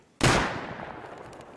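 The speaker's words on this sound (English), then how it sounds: "Right, I'm gonna shoot through this." A single sharp, loud gunshot blast in a raiding video game, fired to shoot through a wall, with a long booming tail that slowly fades.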